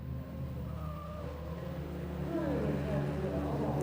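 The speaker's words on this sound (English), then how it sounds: "as the leaders throw the cars through the chicane" Rallycross cars at Eurocircuit Valkenswaard, including a Toyota, are pushed hard through a chicane, their engines droning and rising in pitch under steady commentary.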